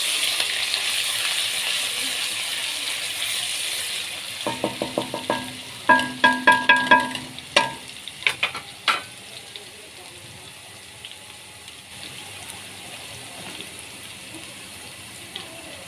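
Ginger garlic paste hitting hot oil with onions in a pan, a steady sizzle with a burst of crackling and clattering stirring sounds partway through, then settling back to a softer fry.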